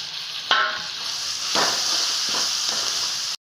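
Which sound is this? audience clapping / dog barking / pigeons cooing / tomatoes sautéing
tomatoes sautéing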